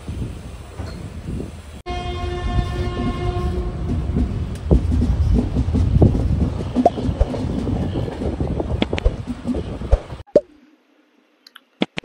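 The Kurnool-Visakhapatnam summer special express train 08546 rumbles along the rails with rhythmic clatter and a brief horn blast early on, loud and close, before suddenly cutting to near silence at the end.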